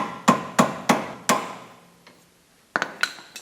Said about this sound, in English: So you get a flathead screwdriver like that and give it some taps.